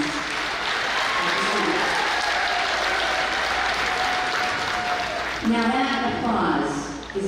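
A large crowd at the 2025 Galesburg High School commencement applauds with sustained, dense clapping that fills the room, swelling slightly toward the end with a voice rising over it.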